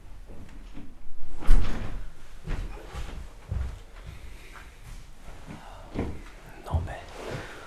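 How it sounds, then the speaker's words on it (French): A door in a home is handled and shut with several soft thumps and knocks, near and muffled amid quiet shuffling, with whispered speech around it. "Je vais fermer la porte, je reviens."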